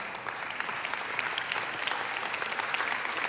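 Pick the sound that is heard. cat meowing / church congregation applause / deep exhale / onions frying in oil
church congregation applause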